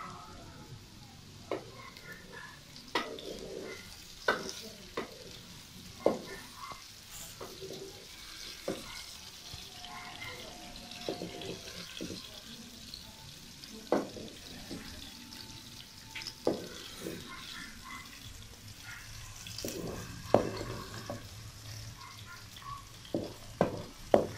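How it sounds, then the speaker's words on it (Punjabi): Okra fries in hot oil with a steady, gentle sizzle, broken by frequent crackles and pops and occasional stirring clicks, heard alone without talk. "ਭਿੰਡੀਆਂ ਅਸੀਂ ਤਲ ਲਈਆਂ 5 ਮਿੰਟ ਵਿੱਚ"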